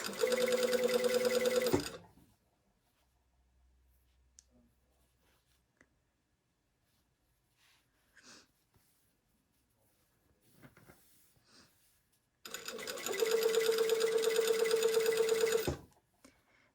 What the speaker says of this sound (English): And we're going to sew right along that fold.